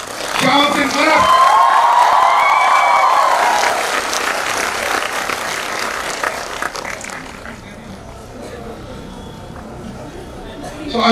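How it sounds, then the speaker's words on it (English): Crowd at a North East fusion carnival greeting a leader with cheering shouts and clapping, a loud burst of whoops and applause that fades over several seconds into quieter murmur and scattered claps. "Welcome with lot of shouts and claps."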